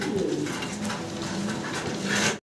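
Pigeons coo softly and repeatedly close by, low rounded calls rising and falling over a faint background hum.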